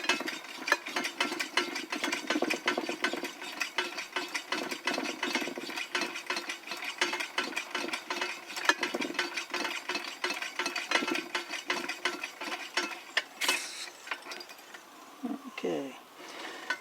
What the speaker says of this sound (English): You put your thumb over that and you pump it up.